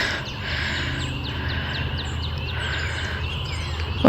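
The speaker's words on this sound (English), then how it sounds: "Listen to all those birds." Birds sing outdoors near a house, with repeated chirping phrases at moderate distance over a steady, faint background hum.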